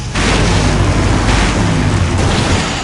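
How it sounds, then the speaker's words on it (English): A big explosion finale booms in one loud, dense roar lasting nearly three seconds, with rumbling low end and broad crackling noise throughout, alone without voices. "Now that's an explosion, ladies and gentlemen"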